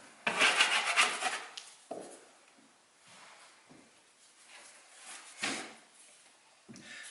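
A 10-inch drywall finishing box rides on its wheels across sheetrock, giving soft scraping and rubbing strokes with a louder rasping pass at the start and quieter intermittent scuffs after, close up and without talk.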